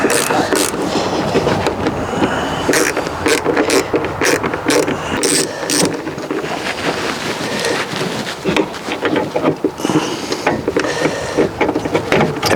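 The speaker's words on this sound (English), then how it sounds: "we'll get back to our screwdriver, because there's one screw down the bottom there" A screwdriver backs out the last screw at the bottom of a valve on a Thetford gas fridge in a motorhome or caravan, giving dense, busy mechanical clicks and scrapes throughout, close and fairly loud.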